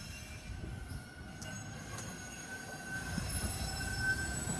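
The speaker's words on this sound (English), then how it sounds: "you got the train going by" A subway train rumbles past steadily at moderate distance around a rail yard in Toronto, with a low rolling drone and faint metallic wheel squeals, growing slightly louder.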